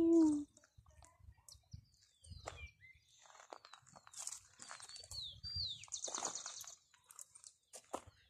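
Small birds chirp and trill in the Ecuadorian highlands near Chimborazo beside a maize field, with sparse, faint high calls in a quiet open setting and some soft rustling close by.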